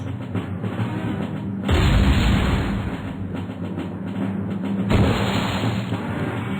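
A fireball spell explodes in the AQW game with two heavy booming roars, the first about a third of the way in and the second near the end, each followed by a lingering rumble.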